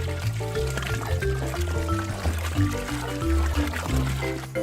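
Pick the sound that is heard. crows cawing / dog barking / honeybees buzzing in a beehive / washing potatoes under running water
washing potatoes under running water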